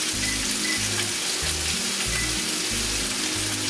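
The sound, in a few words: butter sizzling in a frying pan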